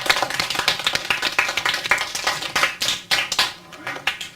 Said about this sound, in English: I think we ought to applaud these first two people.